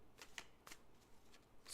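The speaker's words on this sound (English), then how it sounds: "now I'm shuffling and trying to do more shuffling on camera" Playing cards being shuffled close by during a tarot reading, with several short riffling bursts spread across the moment and no talk.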